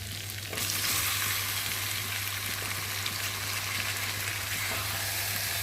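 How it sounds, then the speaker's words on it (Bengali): Chicken pieces fry in oily spiced masala, giving a loud, continuous close-up sizzle with a steady bubbling hiss from start to finish and no talking. "এখন আমি এবার চিকেনগুলোকে দিয়ে ভালো করে কষিয়ে নিই"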